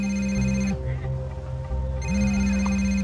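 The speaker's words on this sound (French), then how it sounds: "Le téléphone de ma sœur n'arrêtait pas de sonner" A sister's mobile phone rings repeatedly at a family picnic in a park in Beaumont, its bright electronic ringtone looping loud and close in two bursts with a short gap between them.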